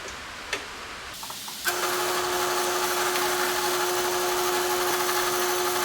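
Drill press starting up and running steadily in a workshop while drilling a plate, a sharp click followed by a constant motor whine and broadband whir, close and fairly loud, with no speech.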